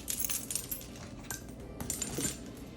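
Keys jangle softly alongside a water bottle and a stroller hook as a bag is packed for a zoo trip, giving light metallic clinks and rattles at a faint level with no voices.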